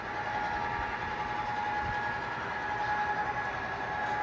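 A long coal train works its way uphill with a steady, droning rumble and a faint whine, continuous and moderately loud from start to end with no talk.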